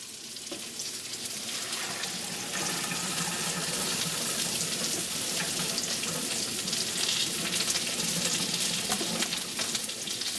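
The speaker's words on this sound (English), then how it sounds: "So now we have to just strain the boiling water out of the potatoes." A steady rush of boiling water pouring and splashing from a pot of potatoes into a strainer in a sink, continuous and fairly loud throughout with no talking.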